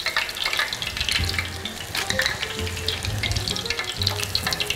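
Battered tempura shrimp and vegetables fry in a pan of hot oil, giving a loud, continuous crackling sizzle with bursts of bubbling and no talking.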